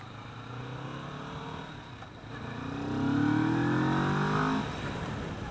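A 2015 Kawasaki Vulcan S cruiser motorcycle engine hums steadily while riding, then revs up in a rising pull that holds before easing off, loud and close under wind noise.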